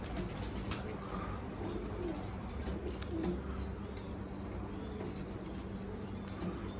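Soft, repeated pigeon cooing over a steady background rumble of traffic or wind, fairly faint and continuous throughout.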